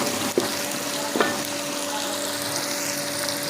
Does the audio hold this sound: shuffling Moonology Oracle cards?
no